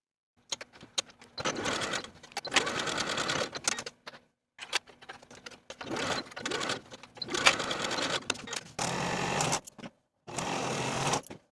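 A sewing machine stitches the underarm seams of a sleeve on a 1960s-style top, running in several close bursts of rapid mechanical chatter separated by short pauses, loud and with no talk.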